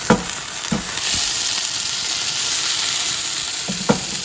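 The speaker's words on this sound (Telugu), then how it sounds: "చక్కగా ఇంకో వైపు కూడా మూత పెట్టి కాల్చుకోండి" Pesarattu, a green gram dosa, sizzling on a hot pan with a continuous loud close crackle and hiss, broken by a few sharp scraping stirs or taps near the start and end.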